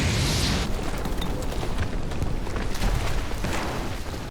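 Explosion in a monster movie on a mysterious island, soldiers battling a fishman creature: a sustained, loud, rumbling roar of broadband noise that holds steady for several seconds, heavy low-end boom throughout, no voices.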